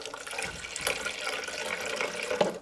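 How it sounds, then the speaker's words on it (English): Water runs and splashes into the tank of a Siemens EQ.300 coffee machine in a short, steady stream, close by, with no voices. "Add some water to this mark,"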